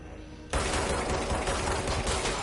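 Rapid automatic gunfire from the video game Control bursts in suddenly after a quiet moment and keeps up as a dense, loud, continuous volley.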